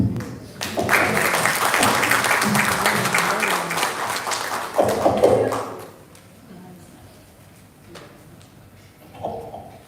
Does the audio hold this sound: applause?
yes